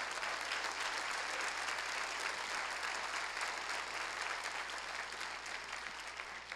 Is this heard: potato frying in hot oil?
no